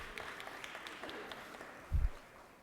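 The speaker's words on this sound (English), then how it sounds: "it deserves a round of applause" Applause in a legislative chamber during a General Assembly session, a steady spatter of many hands clapping at moderate distance, with a brief louder thump near the end.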